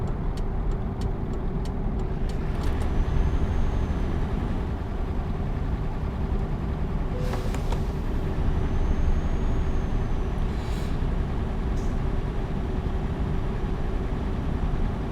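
A Mercedes Actros truck in Euro Truck Simulator 2 cruises with a steady, unbroken engine drone and road rumble throughout, with a few faint higher clicks and swishes over the top.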